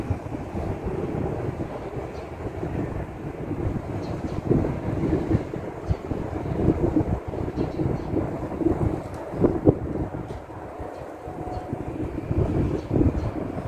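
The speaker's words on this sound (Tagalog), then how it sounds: "Mahangin dito sa amin ngayon." Steady wind rushes and buffets across the whole clip, a broad low roar with gusty swells and occasional louder blasts.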